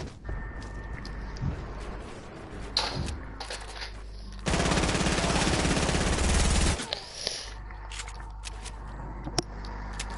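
Sustained burst of video-game automatic gunfire in PlayerUnknown's Battlegrounds, loud and dense for a couple of seconds in the middle, with scattered single shots and game noise around it.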